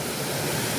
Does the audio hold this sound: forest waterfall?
yes